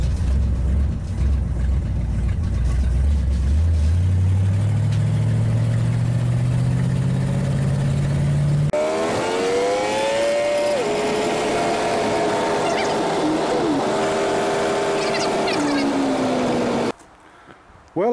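A 1959 Ford Galaxie 500 engine runs loud and steady throughout, revving up gradually at first, then holding a higher varying pitch as it drives, before cutting off near the end.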